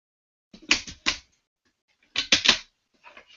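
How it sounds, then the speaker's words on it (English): A paper cutter slices through printed pages: two quick clusters of crisp, sharp cutting clicks separated by a pause, then a fainter short rattle at the end, with no talk. "paper cutter, along with my printed pages, and I start to cut away"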